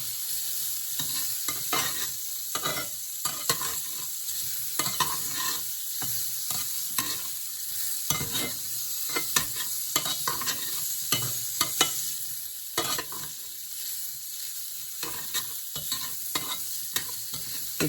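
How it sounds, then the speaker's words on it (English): Hot dogs sizzle in a preheated skillet, a loud continuous crackling fry up close, broken by frequent scraping and clatter as they are stirred and turned, with no voices. "Like these started sizzling as soon as I put them in the skillet."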